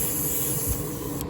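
An airbrush sprays thinned Tamiya acrylic paint, a steady close hiss of air and mist that runs unbroken and then cuts off sharply at the very end.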